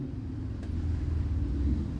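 A 2019 Carrier Comfort air conditioner runs outdoors in 88-degree heat, its fan blades whirring in a steady low rumbling hum that holds close and even throughout.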